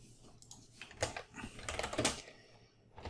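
Typing C++ code on a computer keyboard, a quick irregular patter of close key clicks with a few firmer taps, heard alone.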